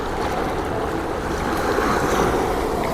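Sea waves at Boulouris beach, a continuous broad wash of surf with wind buffeting the microphone, loud and steady throughout with no talk.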